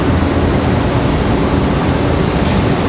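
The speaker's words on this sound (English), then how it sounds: "Nice back-to-back heavy departures here of our freighters." Heavy freighter jets departing Raleigh-Durham airport one after another, a loud, steady broadband engine roar with no pauses.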